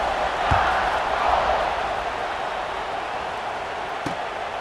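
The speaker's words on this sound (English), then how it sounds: "this crowd is buzzing after that last score" A stadium crowd in the College Football 26 video game buzzes after a score, a steady broad roar that swells slightly early on, with a couple of faint thumps over it.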